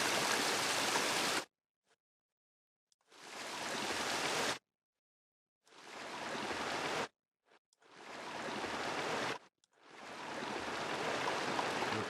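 Waterfall ambience with a low-pass filter: rushing water roars in bursts of broad, hissing noise that cut off abruptly into silence, several times in a row, close and steady during each burst.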